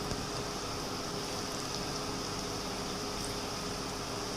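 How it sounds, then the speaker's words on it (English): Beetroot kofta frying in refined groundnut oil, a steady, even hiss of bubbling oil with no breaks, fairly quiet and close. "Started frying the beetroot kofta in a refined groundnut oil"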